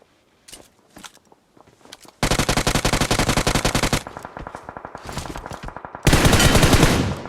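Bursts of rapid automatic gunfire in the mobile game BGMI, starting with scattered single shots and then sustained loud volleys that stop and resume, the last burst heaviest.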